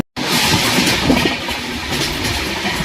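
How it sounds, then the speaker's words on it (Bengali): The Gitanjali Express from Mumbai to Howrah rolls along, its steady loud rumble and wheel clatter running continuously after a brief silent start. "তো ট্রেন চলতে শুরু করে দিয়েছে অলরেডি।"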